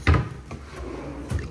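A small cabinet drawer in a Toronto condo unit is opened or shut with a couple of brief wooden knocks and a soft sliding rub between them, close by and with no talking.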